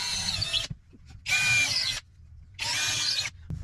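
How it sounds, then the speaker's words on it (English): Up close, a power drill bores pilot holes in three separate loud bursts, each roughly a second long, with quiet gaps between them. "So pilot drill, no nails."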